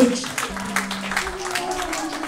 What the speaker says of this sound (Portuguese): Louve o Senhor com as suas palmas.